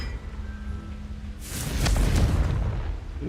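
A Confringo fire spell goes off in Hogwarts Legacy as a sudden loud booming blast, with a deep rumbling burst that swells and lingers for a couple of seconds after a quiet stretch of game ambience.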